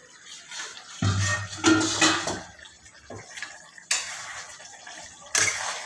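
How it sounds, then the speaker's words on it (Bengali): Lid lifted off a pan of dhaba style chicken, with a few clattering metal knocks and scrapes around the second mark, then brief bright clinks later, close and fairly loud with no talk. "চলুন এবার ঢাকাটা খুলে দিই"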